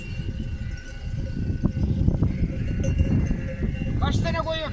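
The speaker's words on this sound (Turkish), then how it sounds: "Koyunlara bak." A flock of sheep in the Emirdağ hills, bleats rising over a dense shuffle of hooves and clanking bells, with people talking nearby throughout.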